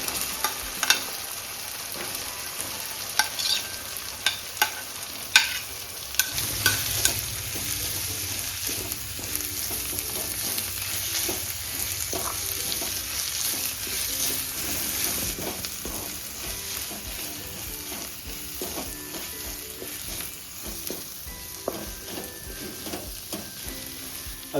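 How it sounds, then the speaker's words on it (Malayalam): Onions frying in butter in a pan for paneer butter masala, a continuous steady sizzle with scattered clicks and scrapes from stirring. "അതിനുശേഷം ബാക്കിയുള്ള സവാളയും കൂടെ നമ്മൾ അതിൻ്റെ അകത്തേക്ക് ആഡ് ചെയ്ത് കൊടുക്കാം"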